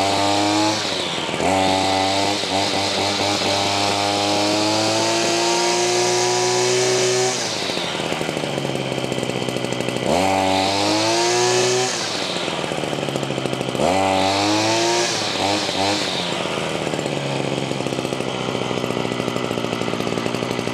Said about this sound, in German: Lass ich jetzt ein bisschen warm tuckern und dann geben wir mal Gas.